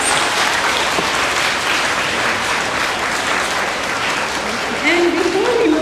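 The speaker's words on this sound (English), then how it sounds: "Please give her another round of applause." An audience at a veterans' honoring ceremony applauds for a student, a loud, dense, sustained burst of clapping filling the room, with a voice rising faintly near the end.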